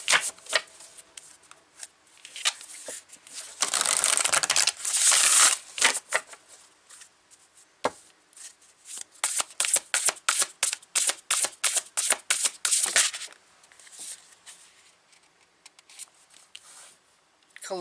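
Tarot cards shuffled up close in long riffling bursts, then a fast run of crisp flicks and taps as cards are pulled, with quiet pauses between.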